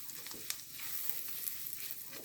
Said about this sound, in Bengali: রসুনের ফ্লেভার আসা পর্যন্ত ভেজে নেব।